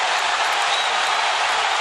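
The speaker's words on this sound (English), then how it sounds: "Listen to the crowd." A boxing arena crowd roars after a round in a championship bout. The cheering is loud, continuous and broadband, a dense wall of crowd noise with no talk.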